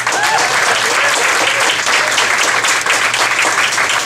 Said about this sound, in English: Let's give another round of applause to Pete,